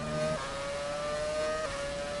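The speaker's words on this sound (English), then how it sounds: "The change of the sound of the engines of these Formula One cars is amazing." High-pitched Formula One car engines in a racing video game whine steadily, pitch sliding and shifting as gears change, with a constant mechanical drone throughout.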